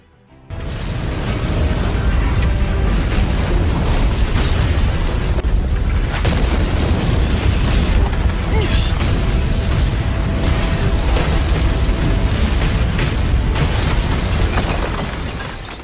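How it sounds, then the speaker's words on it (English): A massive, sustained explosion from an artifact blasting downward through a corridor rumbles with a deep roaring boom and crackling debris, loud and continuous for many seconds before tapering off. "The explosion from Purple Clock's artifact, which was directed downward, spreads across almost the entire corridor"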